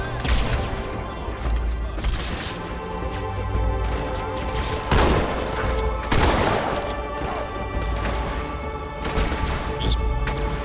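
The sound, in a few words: shotgun and gunfire in video game Halo 2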